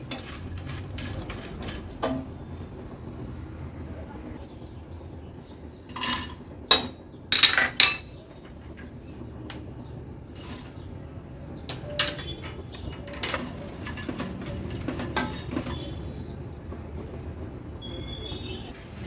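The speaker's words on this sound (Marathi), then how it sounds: "दगडफूल पण लो टू मीडियम फ्लेमवर व्यवस्थित असं परतून परतून भाजून घेऊया" Stone flower and whole spices being dry-roasted in a wok, with scattered clinks and scraping knocks of a spatula against the metal over a low background rumble, mostly quiet with a few sharper bursts.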